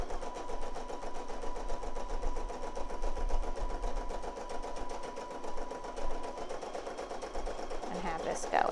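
An embroidery sewing machine stitches steadily, giving off a continuous fast mechanical whirring and rapid needle clatter that runs close and loud throughout without a break.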